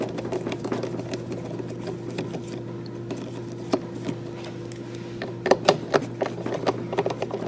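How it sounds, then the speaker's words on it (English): Small T20 Torx screws are backed out of the mass air sensor on the stock airbox of a 2017+ Camaro ZL1, light clicks and metallic ticks over a steady hum, a brief cluster of taps near the end. "Take your T20 Torx and remove the mass air sensor from the stock airbox."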